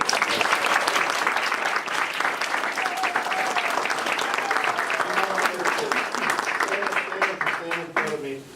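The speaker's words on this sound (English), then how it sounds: "Let's give a round of applause to all." Crowd applause at a Redbud Prince and Princess contest and coronation in Columbus, loud, sustained clapping from many hands that continues throughout and thins slightly at the end, with voices and cheers audible beneath it.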